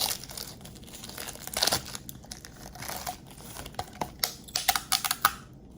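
Plastic snap-on containers taped together are pried apart, giving close, uneven crinkling, tearing and sharp plastic clicks that grow busier and more clattery toward the end.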